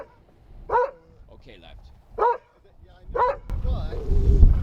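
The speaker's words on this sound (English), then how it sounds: "Like if he's barking at someone he doesn't know" A dog barks three sharp, loud times at close range, spaced a second or so apart, with a person speaking briefly between the barks and some rustling noise at the end.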